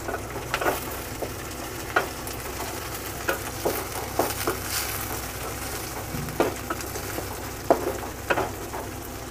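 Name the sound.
curry leaves and peas frying in oil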